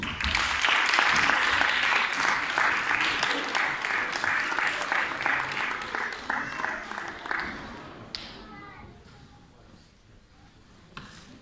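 Audience applause at a student guitar recital, a dense wash of clapping that starts strong, holds steady, then thins and fades out toward the end.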